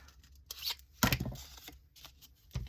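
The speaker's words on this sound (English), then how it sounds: "And we're going to cut up here" Scissors snip through paper for a junk journal in a few close, crisp cuts, with a louder rustling slice in the middle and soft handling noises around it.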